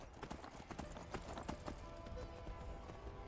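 A horse's hooves clip-clop while riding in the video game Skyrim, with quick irregular hoof strikes over rough terrain and a faint ambient bed, with no voices.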